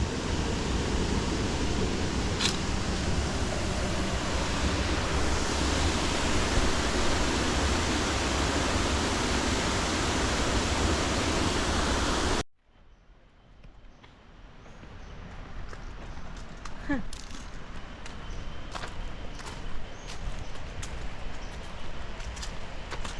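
Chet Sao Noi waterfall's fifth tier roars as a loud, steady broadband rush for about twelve seconds, then cuts off sharply to a much quieter outdoor background with faint scattered sounds and distant water.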